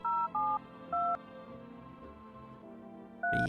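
DTMF keypad tones from a telephone being dialed in a video game, a short run of distinct beeps, a pause, then another beep, close and clear.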